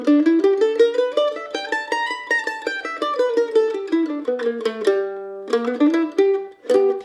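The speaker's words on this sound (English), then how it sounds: "In this mandolin lesson, we're going to take a look at the major blues scale" A major blues scale on mandolin, bright picked notes climbing and descending in a quick continuous run with a few held tones near the end, played solo and close.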